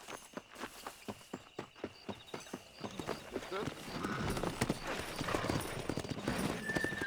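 Horses ridden in the video game Red Dead Redemption clip-clop in a steady, even walking rhythm, then speed into a busier gallop of overlapping hoofbeats with a whinny and voices mixed in.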